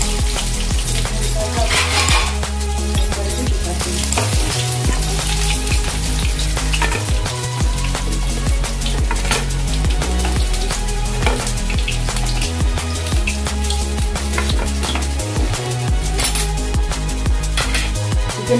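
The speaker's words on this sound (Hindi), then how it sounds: "चिकन फ्राई हो गया" Chicken pieces frying in hot oil for an Indian-style fried chicken, a loud steady sizzle filling the whole stretch with scattered clicks and knocks of the pan throughout.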